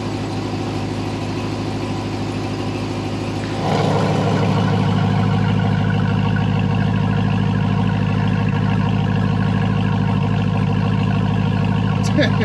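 A 2021 Ram TRX pickup engine idles with a steady low rumble, then turns noticeably louder and throatier partway through as QTP Aggressor exhaust cutouts open, holding that loud drone to the end.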